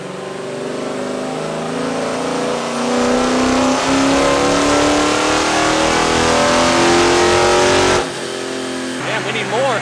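A car engine winds up in one long, loud climbing rev on a dyno, pulling steadily higher for about eight seconds before cutting off, with a short blip of throttle and nearby voices afterward.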